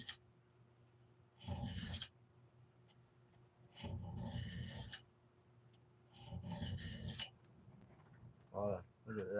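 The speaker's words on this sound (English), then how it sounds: "Just cleaning up my carving bar" A chainsaw carving bar scraped clean of packed wood shavings, with four rough rasping strokes at a steady pace, each lasting about a second, separated by quiet gaps and close to the listener.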